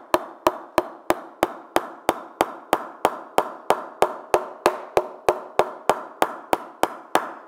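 A Gray-Nicolls Fusion cricket bat, full-timbered with little scalloping, is tapped in a steady, evenly spaced series of about twenty sharp, close wooden knocks, each ringing briefly before the next, with no talking.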